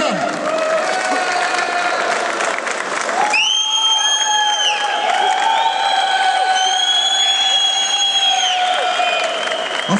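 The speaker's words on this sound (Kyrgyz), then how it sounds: "5 жылдан бери уюштуруп жаткан Давлат агайга бир кол чаап коелуба." Steady crowd applause and cheering at a football league cup presentation and closing ceremony, loud and continuous throughout, with a tonal whistle-like sound rising over the clapping partway through.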